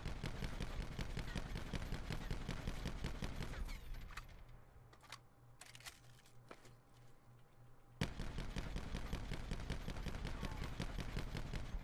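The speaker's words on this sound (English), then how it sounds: "We're going to aim chest high on this wall, and then we're just going to fire and take our finger off the right stick." An Auger DMR in Call of Duty: Black Ops 4 fires rapidly against a wall, with sharp rhythmic shots in quick succession, a brief quieter gap in the middle, and then more rapid firing that carries on to the end.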